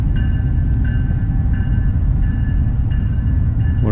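A freight train rolls past at night in Dallas, a loud continuous rumble with periodic squealing, clanking wheel tones repeating as the cars go by.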